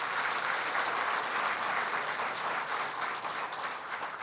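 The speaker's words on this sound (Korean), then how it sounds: "다시 한번 큰 박수 부탁드립니다." An audience at an award ceremony applauds in a dense, steady wash of clapping that stays loud and even for the whole stretch, with no talking over it.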